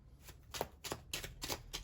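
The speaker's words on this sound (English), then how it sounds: "Let's do one more shuffle." A tarot card deck being shuffled up close, about six quiet riffling bursts in a quick, uneven rhythm with nothing else over them.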